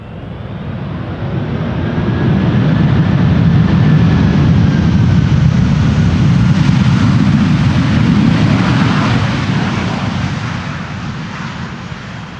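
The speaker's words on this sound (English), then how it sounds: "This is Delta Airlines Flight 136 arriving from Detroit, Michigan. A330-300" Delta Airlines Airbus A330-300, a 22-year-old jet from Detroit, landing in crosswind at Amsterdam Schiphol Airport, a loud jet engine roar that swells as it passes close and slowly fades.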